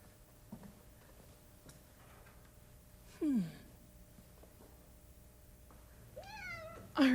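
Kitten in a barn giving a few thin, rising meows, one in the middle and a louder pair at the end, over a faint, quiet background.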